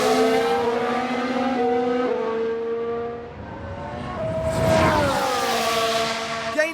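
A Mercedes Formula One car on track in F1 Manager 2022 holds a loud, steady engine whine with climbing pitch and gear-shift steps, as a second car surges past near the middle.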